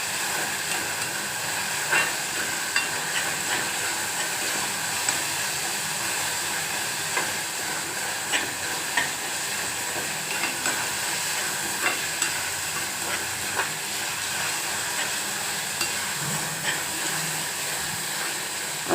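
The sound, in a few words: frying food in a pan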